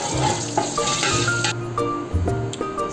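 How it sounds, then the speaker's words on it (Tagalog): Water pouring and splashing into a hot cooking pot of meat laham, a busy continuous gush with sizzling and clinking over a background hiss, close and steady. "uunahin niya po yung tubig na nilalagay"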